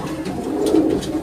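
Pigeons cooing close by, a soft low throaty coo rising and falling over about a second, alone without talk.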